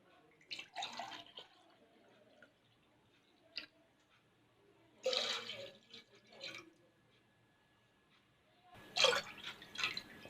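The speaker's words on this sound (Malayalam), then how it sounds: "നമ്മൾ അതിലേക്ക് ഒരു 5 ഗ്ലാസ് പാൽ ഒഴിക്കാം" Full-fat Nandini milk is poured into a pressure cooker for paal payasam in a home kitchen. Faint, soft splashing and dripping come in three separate bursts with quiet gaps between them.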